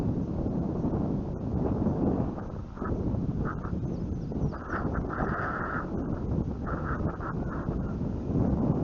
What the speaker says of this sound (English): We got about 15 mile an hour headwinds down the runway